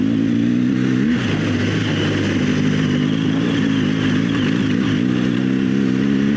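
A BMW adventure motorcycle on Bridgestone AX41 tires rides along a road, its engine droning steadily and loud up close, with slight shifts in pitch as the throttle changes and no voices.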